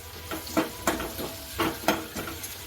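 Onions and capsicum are stirred in a hot pan over a soft sizzle, with a spoon scraping in irregular, close strokes about twice a second.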